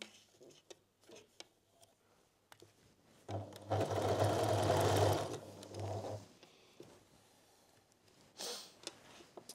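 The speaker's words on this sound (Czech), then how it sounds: "a šijeme cikcakem" Sewing machine stitching a zigzag seam on a homemade bralette, starting up for a steady, loud whirring run of about three seconds among quieter handling noises.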